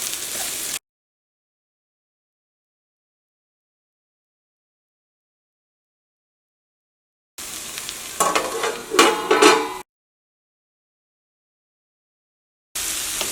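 Green beans in coconut oil for Kerala mezhukkupuratti, stirred and sizzling in a pan, heard in two short bursts broken by long silence, with a louder stretch of scraping and frying near the end.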